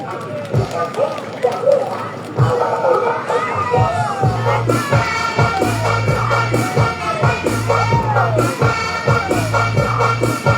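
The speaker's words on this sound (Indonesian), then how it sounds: "mari kita jemput dengan tepuk tangan yang paling tulus Bapak Pendeta Joni Umbulado STH" Crowd at a limited campaign gathering cheers and shouts in welcome of a pastor, a dense, steady roar of many voices with scattered whoops, with amplified music thumping beneath.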